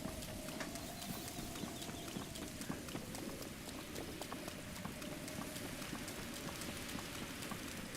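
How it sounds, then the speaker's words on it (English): Steady rain falls in The Legend of Zelda game, a dense, even patter of drops that continues without a break across the whole stretch at moderate loudness, with no talk over it. "I gotta cook some if I can ever live long enough to get outside of this rain"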